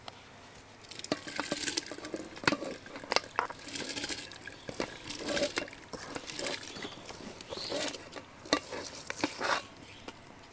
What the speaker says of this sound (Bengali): এখন ভেজানো চালটাকে দিয়ে দেব।